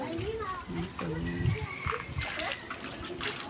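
Tilapia thrashing and leaping in shallow water, producing scattered wet splashes and dribbling trickles under near, continuous conversation from several people, including a child.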